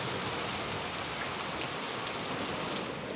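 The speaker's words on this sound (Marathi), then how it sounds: "मधूनच अलगद कोसळणाऱ्या रिमझिम सरी यामुळे सुखद अनुभव मिळतोय" Steady drizzling rain at Saptashrungi fort in misty hill weather, a soft continuous hiss of drops falling across surfaces with no breaks, moderately quiet and even throughout, no voices.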